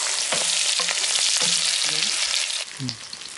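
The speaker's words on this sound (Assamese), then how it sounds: "এইফালে তেল গৰম হৈ গ'ল এইফালে দি আছে পিঁয়াজ" Onion frying in hot oil for an Assamese home-cooked chicken dish, a steady broadband sizzle filling the clip, with brief utensil scrapes and clinks over it and a slight drop in level near the end.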